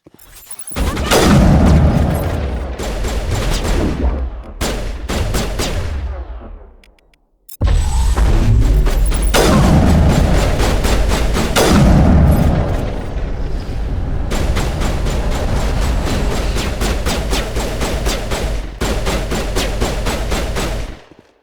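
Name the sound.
gunfire from commandos shooting at the Rachni, Mass Effect video game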